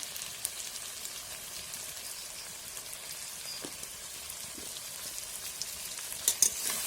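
Potato pieces fry in a pan, giving a soft, continuous sizzle with faint crackles and a few small clatters near the end, no voices over it.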